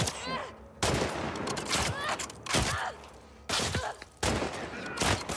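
Gunfire rattles through a firefight in The Last of Us Part II. Loud bursts of shots come in quick clusters with short gaps between them, along with thuds and a faint groan.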